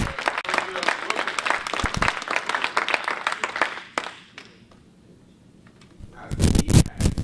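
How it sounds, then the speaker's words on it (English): An audience at a community convention applauds with dense clapping for about four seconds, then a quiet stretch follows before a loud burst of noise returns at the end. "One more round of applause for"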